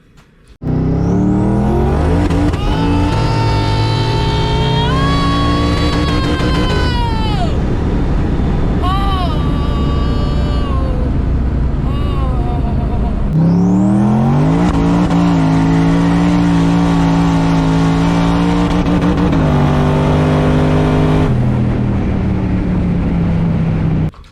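A twin-turbo Ford Mustang engine revs hard and climbs repeatedly to a high, sustained whine at redline, dropping briefly between pulls; loud and close throughout.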